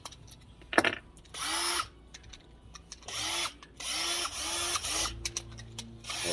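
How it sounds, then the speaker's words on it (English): A cordless drill fitted with a driver for radiator valve tails runs in several short bursts, whirring close and loud with clicks and pauses between. "So it simply attaches into a cordless drill."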